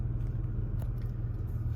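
A third-generation Toyota 4Runner idles after starting, its engine giving a steady, loud low rumble throughout with no voices.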